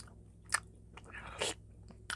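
Quiet close-up chewing and biting while eating pollock stew (dongtae jjigae), a few soft crunchy bites and mouth sounds against a low background.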